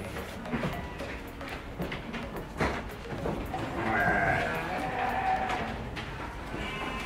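Garut sheep bleating in a farm pen, a few wavering calls rising over a busy, noisy background with other livestock and faint voices.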